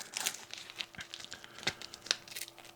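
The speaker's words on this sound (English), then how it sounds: "of the EDC trauma kit, like so, you can see that, and really fold it into itself" Fabric pouch of a Live The Creed EDC pocket trauma kit being folded into itself, giving close, soft crinkling and rustling with a few sharper crunchy snaps, steady handling noise throughout with no talking.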